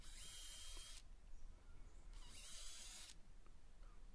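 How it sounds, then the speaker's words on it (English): A power drill bores pilot holes into a wooden bird feeder roof in two whining bursts of about a second each, separated by a pause, faint and close. "quickly drilling some pilot holes"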